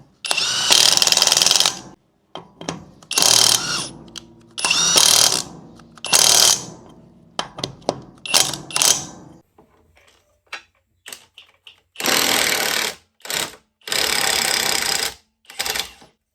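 A Dongcheng 598 Nm cordless impact wrench unscrewing a car wheel fires loud, close rattling bursts of hammering, each lasting one to two seconds, with short pauses and small clicks between them. No voice is heard.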